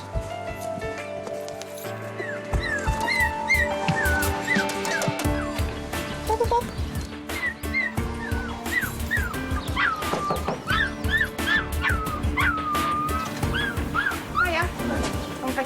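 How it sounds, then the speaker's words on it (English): A puppy locked in a car boot for days whimpers and yips in high, short cries, mixed with a few barks, over a busy, noisy background with voices. "We've had a call regarding a puppy that's been locked in a boot for a number of days"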